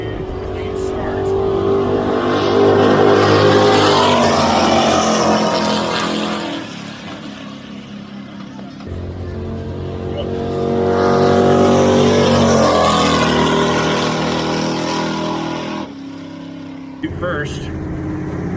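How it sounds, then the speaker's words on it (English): Drag race cars launching from a clean start, engines roaring loud and close in two long surging, revving runs with a short drop between them, talk faintly mixed beneath. "we've got ourselves a clean start, which means we've got ourselves a drag race"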